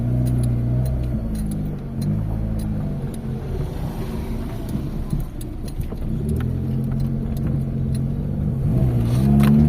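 A Mazda 323 car on a test drive after repair of a misfiring engine, its steady engine hum and road rumble continuous and close from the cabin, with slight rises in revving.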